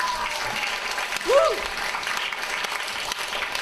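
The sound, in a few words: audience applause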